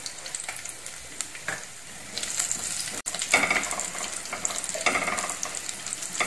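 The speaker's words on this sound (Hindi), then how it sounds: "जैसे ही काजू हल्का फ्राई हो जाए तो इसी में आप अपने ये रेड चिली डाल दीजिए" Cashews and broken red chillies fry in a pan for pongal, giving a crackling sizzle that swells louder partway through after a brief dropout, with scattered stirring scrapes and no speech.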